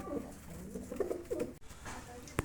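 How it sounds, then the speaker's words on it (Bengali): A black Kawa pigeon coos softly at close range in a short series of low, throaty calls. "কালো কুচকুচা দেখার মতো একটা কবুতর দেখেন"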